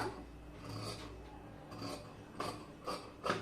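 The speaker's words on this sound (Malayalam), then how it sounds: "സൈഡിൽ പോലെ ഒന്ന് കട്ട് ചെയ്ത് എടുക്കുക" Scissors cut through fabric for a frock in a few quiet, close rasping snips, separate strokes that grow slightly more distinct toward the end, with no talking.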